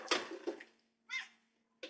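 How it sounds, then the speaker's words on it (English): A cat makes a few short, close meow-like cries with quiet gaps between them, heard alone in a quiet room. "Where's the cat?"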